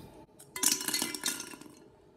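Small Christmas ornaments dropped into a holder, giving a short run of light glassy clinks and clatters, close and fairly quiet, lasting about a second.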